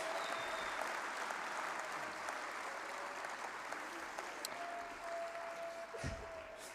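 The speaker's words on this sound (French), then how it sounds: "Je pense que vous pouvez leur faire un tonnerre d'applaudissements" A crowd at a national farmers' union congress claps in sustained, even applause that holds at a steady level for several seconds, with no speech over it.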